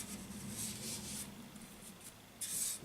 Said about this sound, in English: If there's anything on the lid, give it a wipe round